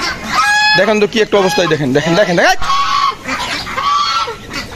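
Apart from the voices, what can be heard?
chickens and ducks clucking and honking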